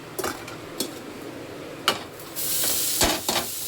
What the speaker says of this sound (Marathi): थोडासा भात गरम करते